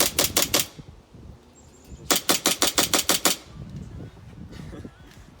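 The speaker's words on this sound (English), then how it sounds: "pretty much have unlimited shots on a gas blowback pistol" An M9 gas blowback airsoft pistol on an HPA setup fires on full auto, a quick burst of about four shots followed by a longer rapid string of around ten sharp, loud cracks.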